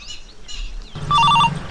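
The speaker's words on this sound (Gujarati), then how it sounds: "લાય હવે સુમલીને ફોન કરું" A telephone rings partway through, a short bright electronic trill repeating in quick pulses, loud and close after a quieter stretch of faint background chirps.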